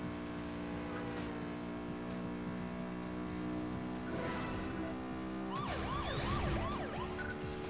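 A wailing police siren from the racing game Burnout 2: Point of Impact rises and falls loudly in the last couple of seconds, over a steady roaring car engine drone that runs throughout.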